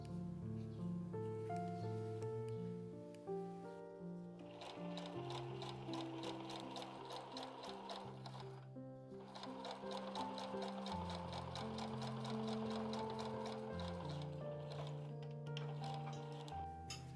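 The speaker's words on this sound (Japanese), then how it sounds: "そして底の布を合わせてまたミシンで縫いますよ。" Sewing machine stitching the bottom fabric onto a patchwork bag about 20 x 39 x 19 cm, a rapid even ticking run of stitches that continues beneath gentle background music, with a short pause partway through.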